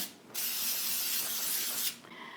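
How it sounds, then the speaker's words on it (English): A single continuous hiss of baking spray from an aerosol can onto cake pans, lasting about a second and a half, then a short faint rattle. "we're going to take some more of the baking spray and spray them again"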